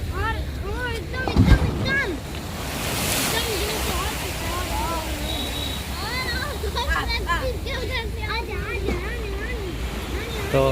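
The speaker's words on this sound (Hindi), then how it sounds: "तो इस समय हम शूट कर रहे हैं लहर का, जो ऊपर लहर उठ रही है और पानी ऊपर आ रहा है।" Sea waves rise and surge in a steady broad wash with gusting wind buffeting the microphone, continuous and fairly close, with a few faint chirping sounds over the water noise.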